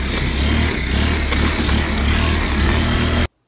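A Honda Elite CH80 scooter engine runs steadily and close by, a loud, continuous mid-pitched drone with a buzzy exhaust note that holds even for about three seconds before stopping abruptly, with no talking.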